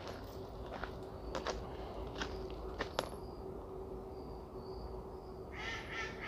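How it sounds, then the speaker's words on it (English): Ducks quacking in Duke Gardens, North Carolina, a string of short, moderately distant calls in open air, with footsteps crunching along a garden path. "Do you hear the ducks?"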